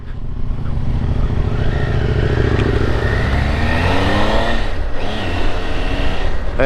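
A motorcycle setting off on the road through Ullapool on the North Coast 500, its engine loud and close, droning steadily and revving through gear changes, with no talk.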